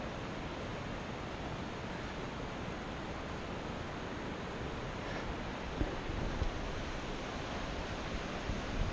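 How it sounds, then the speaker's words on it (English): A mountain river rushes steadily in the Nepal highlands near Lukla, a constant broadband roar that stays even throughout with no talking. "It's so silent that you can even hear the river"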